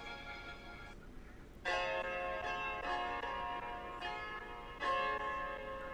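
Short broken-chord synth pattern played on a Maschine, bright bell-like tones entering in bursts with sustained harmonic notes, repeating in a steady rhythm and moderately loud.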